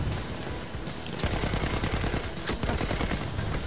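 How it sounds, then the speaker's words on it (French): Machine gun fire in the World War I shooter Battlefield 1, a loud, dense stream of rapid shots that starts sharply partway through and keeps rattling without a break. "je vais utiliser la mitraille que j'utilisais dans la vidéo"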